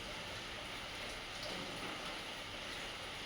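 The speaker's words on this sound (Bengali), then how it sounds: "দেখো বাইরে এমন বৃষ্টি পড়ছে" Rain falling outside, a faint, even hiss of drops that holds steady throughout with no voices.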